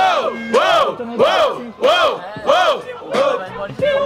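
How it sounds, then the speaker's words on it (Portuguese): A crowd at a student rap battle in Guarulhos roars in rhythmic, chant-like bursts, about eight loud swelling shouts in steady succession, close and energetic. "quem gostou das rimas de peixe faz muito barulho"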